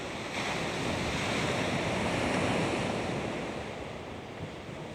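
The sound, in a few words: strong wind and ocean waves during drone flight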